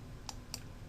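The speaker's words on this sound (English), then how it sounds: "I would go ahead and click on the box." Two quick, light clicks about a quarter second apart, close and crisp over a faint steady background hum, the kind of mouse button presses made while selecting a box on a computer screen.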